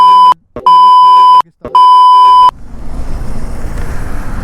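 Three loud electronic beeps sound, then a truck rumbles past on the rain-soaked NH 66 highway, splashing mud, with a swelling roar of road noise.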